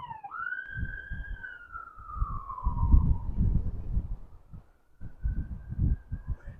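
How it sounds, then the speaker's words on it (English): A police siren wails outdoors, its rising and falling tone sweeping past over low rumbling wind noise, with a brief lull before the tone returns faintly. "Don't mind the police sirens."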